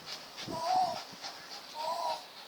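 A dog that has been fighting a rooster pants and whimpers softly nearby in a few short, breathy bursts, with faint voices in the background.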